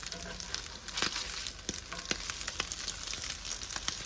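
Southern salmon patties fry gently in a pan, a quiet steady sizzle dotted with small crackles and spits.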